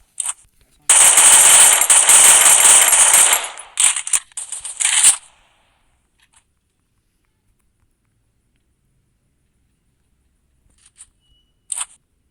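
Rapid automatic gunfire in a Free Fire team battle game, a loud continuous burst lasting several seconds, then scattered single shots and a few faint distant pops after a long pause.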